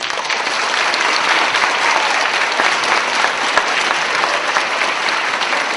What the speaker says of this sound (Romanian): e bine, ați aplaudat bine